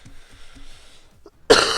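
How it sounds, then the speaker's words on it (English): A person coughs in a short series of soft bursts, close and fairly quiet, followed by a sudden loud, broad burst at the end. "My god, I'm coughing so bad today,"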